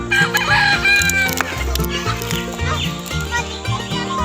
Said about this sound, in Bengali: কত মুরগি আর মোরগ।